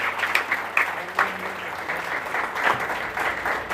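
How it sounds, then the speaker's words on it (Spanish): Brief, lively applause from a church congregation, many hands clapping in a continuous wash at moderate loudness with a faint voice underneath. "¿Cuánto le damos un aplauso a Dios por esto?"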